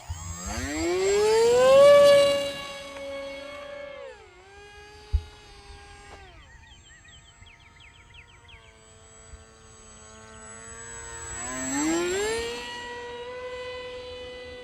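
A HobbyZone AeroScout 1.1 m RC plane's electric motor whines up to a high pitch at hand launch, drops to a quieter, wavering drone in flight, then surges again, with one sharp click partway through.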